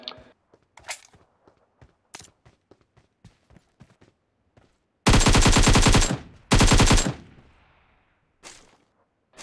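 In PUBG Mobile, an automatic weapon fires two loud, close bursts to knock down an enemy, framed by scattered light footsteps and clicks.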